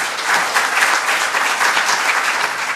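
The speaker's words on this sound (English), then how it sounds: "Ladies and gentlemen, a round of warm applause for Mr." Warm applause from a seminar audience, dense steady clapping throughout with no voices, fairly loud and close.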